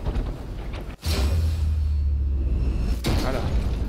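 Rifle shot in the video game Sniper Elite 4: a sharp crack at about one second, followed by a sustained low booming rumble and a second crack near the three-second mark, loud with game ambience underneath.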